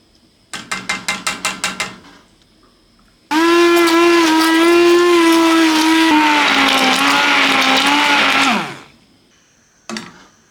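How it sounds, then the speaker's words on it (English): Loud, close blender whirring through a kohlrabi and sweet potato soup for about five seconds, its motor pitch sagging slightly before cutting off, preceded by a quick series of sharp clicks or beeps. "Now we are going to blend."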